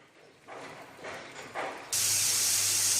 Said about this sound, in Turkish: Suyunu ilave ediyorum şimdi.